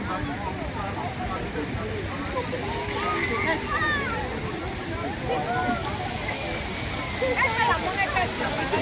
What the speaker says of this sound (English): Water show.